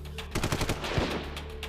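A gunfire sound effect of dozens of shots fired together: a rapid burst of loud, closely spaced cracks, then a couple of heavier single blasts, over a steady background hum.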